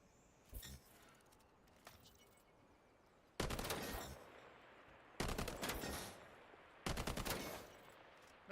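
A scoped weapon in the Highguard video game fires in repeated bursts. Three loud, sustained volleys ring out, separated by pauses, after a couple of quieter early shots.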